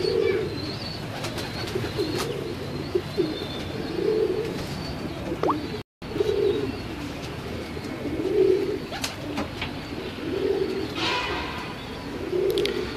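Teddy pigeons coo in low, repeated rolling phrases at a steady rhythm, with faint chirps from other birds over a constant background hum and a brief dropout midway.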